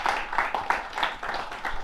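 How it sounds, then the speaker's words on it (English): An audience at a hackathon applauds a speaker, a dense, moderately close burst of many hands clapping that holds steady for a couple of seconds. "Please, a round of applause for him."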